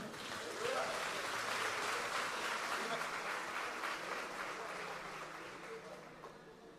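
A church congregation applauds to welcome pastor Djalma Pinho, a broad wash of clapping heard from a distance that stays steady and slowly fades over several seconds.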